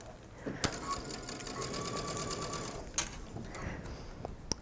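Sewing machine running a straight stitch through mesh sleeve fabric, a fast even whirring hum with a few sharp clicks and brief pauses, close and fairly quiet.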